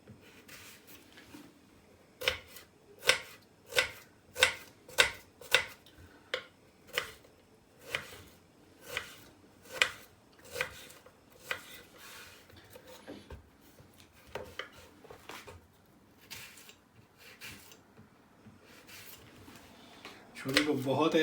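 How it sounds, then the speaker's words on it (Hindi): A knife chops onion into small cubes on a board, giving a steady series of crisp knocks that later turn irregular, while a person talks over the cutting. "प्याज को हम क्यूब्स की शक्ल में काटेंगे"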